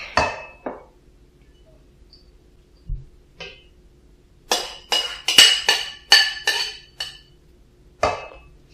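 Spinach pie filling being mixed in a bowl for spanakopita, with an egg added, giving a series of sharp utensil clinks and taps against the bowl in irregular bursts, close and moderately loud, with no talking.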